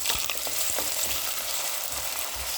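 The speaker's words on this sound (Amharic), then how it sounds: "በመቀጠል ሽንኩርት ነው የምንጨምረው ልክ እንደዚህ።" Onions hitting hot oil with whole spices in a pan for a rice dish, giving a steady loud sizzle and crackle throughout with brief stirring scrapes, no talking.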